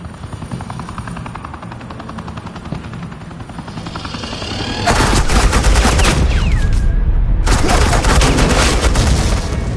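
Suppressing gunfire in a Batman video game: sustained, loud rapid automatic fire over a whirring helicopter-like drone, continuous for several seconds after a quieter lead-in.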